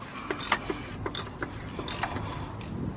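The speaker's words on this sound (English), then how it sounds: "to crack the oil filter loose, it's a 24mm socket" A 24mm socket on a ratchet cracks loose the oil filter housing on a BMW 760Li with the N73 engine, giving a close run of sharp ratcheting clicks and metallic ticks over about three seconds.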